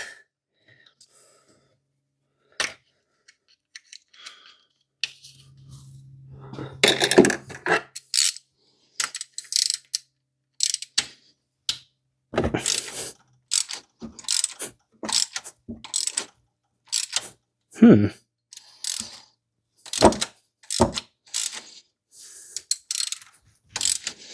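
A hand ratchet clicks in short, uneven bursts as the old belt is removed from a Mercedes V8 in a Ford Capri, with close, crisp pawl clatter separated by pauses and faint rustling.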